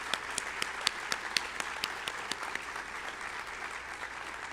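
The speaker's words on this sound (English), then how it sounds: "I want to give one big round of applause for everybody who's behind this thing." A banquet audience applauds at a police and citizens awards dinner, steady clapping from many hands holding an even level throughout, with a few sharper claps standing out near the front.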